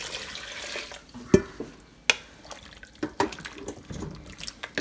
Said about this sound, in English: As you can see, we can add more water.